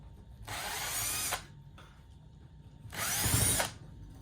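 A power driver backs out very short screws from the locking bar of a 1951 Vendo 39 Coke machine, in two close, brief whirring bursts separated by a short pause.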